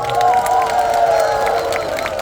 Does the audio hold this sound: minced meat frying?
no